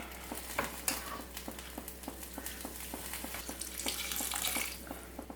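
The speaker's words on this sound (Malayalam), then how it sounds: "ഞാൻ 1 കപ്പ് അളവിൽ വെള്ളം ഒഴിച്ചു കൊടുത്തിട്ടുണ്ട്." Cauliflower masala in a pan sizzling and being stirred as a cup of water goes in, with a steady frying hiss and repeated soft scraping clicks, moderately loud and close, with no talking.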